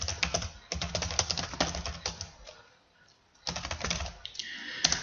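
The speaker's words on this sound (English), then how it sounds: "So I'll type in my header, which is convenience store sales." Typing on a computer keyboard, a steady run of quick clicky keystrokes up close that pauses briefly, then resumes in a second burst.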